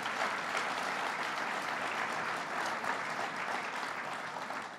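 A full audience gives a round of applause for the state budget director at a Western New York budget event, dense sustained clapping that holds steady for nearly five seconds.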